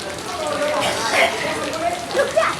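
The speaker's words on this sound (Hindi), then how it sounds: "बारिश आ गई, मज़ा आ गया है ना आनी?" Rain falling outdoors during a Dussehra festival, when an effigy of Ravana is being built, comes through as a steady soft patter with a few louder drop hits and no voices.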